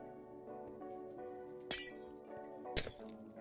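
Tinted glass blocks breaking in Minecraft, two sharp glassy shattering clinks about a second apart over a steady musical background with no talking.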